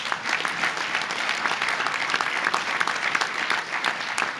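An audience at a university State of the University address breaks into applause, a steady, moderately loud patter of many hands clapping throughout, with no voice over it.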